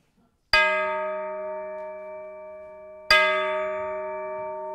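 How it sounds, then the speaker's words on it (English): Two deep, resonant strikes of a low orchestral church bell a few seconds apart, each ringing out with a long, slowly fading hum of overtones. "This is the low church bell for the Great Gate of Kiev"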